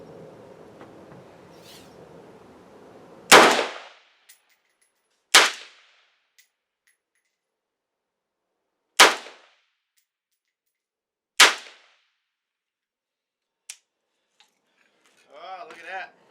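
Sharp metallic clacks and snaps from a PAP M90 rifle as a magazine is worked into it, several separate loud impacts spaced a few seconds apart with silence between, and a brief voice near the end.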